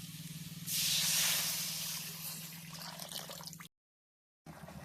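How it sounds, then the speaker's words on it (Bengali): Water poured into a simmering curry of fried spices and fried potatoes for a fish roe dish, giving a loud hissing, splashing rush that swells early then settles into a steady bubbling hiss, cut briefly by silence near the end. "এখন দিয়ে দেবো জল"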